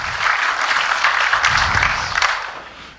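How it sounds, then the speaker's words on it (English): Audience applause at a talk on brain ageing, a short burst of many hands clapping together, fairly loud, steady for about two seconds before fading out. "Round of applause for Kunjis, who organises the speakers"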